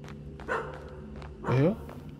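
A dog barks twice in a graveyard in a horror video game, two short bursts roughly a second apart with the second louder, alongside a faint ambient game background.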